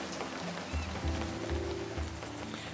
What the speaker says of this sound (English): Oh, of course you can hear the rain too.